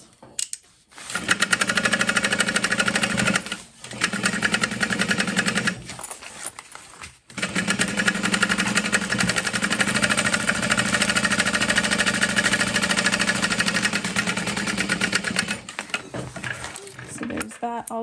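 A sewing machine basting seams on an Elina backpack, running in loud, fast stitching bursts with short stops between runs and a long steady stretch, close up.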